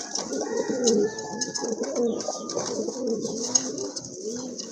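Several pigeons of the Suachandan breed coo nearby in overlapping, throaty rolls, a continuous chorus with a few brighter chirps and no talk.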